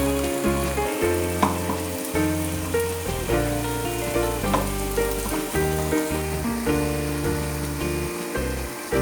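Rasbara, deep-fried lentil fritters for Holi, bubble and crackle loudly in hot oil, a dense continuous sizzle close up with background music underneath and no talk.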